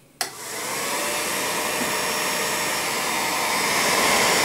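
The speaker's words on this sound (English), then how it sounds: "We'll turn the motor on." A Revere P-90 8mm film projector switches on with a click, then its motor and cooling fan run as a steady, loud whirring hum.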